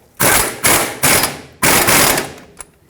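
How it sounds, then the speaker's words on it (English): A ratchet-type wrench clicks as it torques a sway bar link nut on a 2003-2009 Toyota 4Runner front suspension: four loud, close bursts of rapid ratcheting, each lasting about half a second, with no talking. "And torque it to 52 foot-pounds as well."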